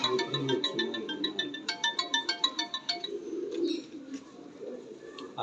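Old-bloodline Golden pigeons coo in low, repeated murmurs, mixed with a bright, rhythmic chirping pattern that pulses steadily before thinning out.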